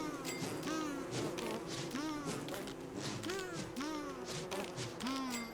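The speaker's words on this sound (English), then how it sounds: "Oh, we actually have a bee who came out and is..." Bees buzz in the video game Don't Starve, a wavering, sliding drone repeating in short swells over a busy game soundscape with light tapping steps.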